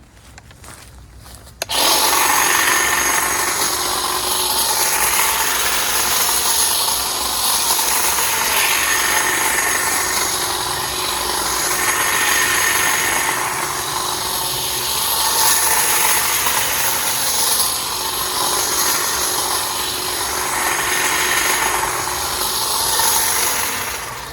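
A DeWalt cordless hedge trimmer buzzes loudly and continuously after a brief quiet start, its motor drone wavering slightly as it cuts through the hedge.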